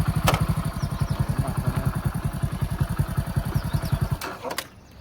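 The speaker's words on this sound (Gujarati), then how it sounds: "હજી આપણું ટ્રેક્ટર બારે કાઢવાનું હતું ને દેવાભાઈ બારે કાઢે છે।" A tractor engine chugs close by in quick, even thumps as it is driven out, then cuts off sharply near the end.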